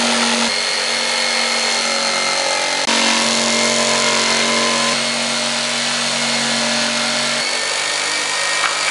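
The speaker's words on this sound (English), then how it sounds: "So now my dad's going to use a jigsaw." A jigsaw cuts a hole through a panel for a homemade fume hood, a steady loud buzzing drone running the whole time with brief breaks and shifts in pitch.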